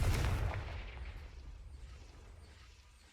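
In Hogwarts Legacy, a Confringo fire spell lands as a deep, booming blast that rolls off and fades over a few seconds, heavy in the low end with no voices.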